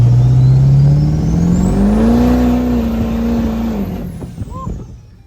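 A 1970 Chevelle engine revs hard and loud up close, its pitch climbing steadily before the throttle drops off near the end.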